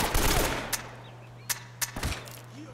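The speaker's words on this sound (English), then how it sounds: "Definitely shot that dude in the head." Gunshots in the video game Uncharted 1: a dense burst of fire at the start, then several sharp, isolated shots over a steady low hum.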